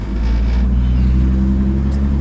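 A 1958 GMC Apache Fleetside pickup with a 4.3 single-camshaft pushrod engine drives along, giving a steady, loud low rumble with constant drone and no break in the sound.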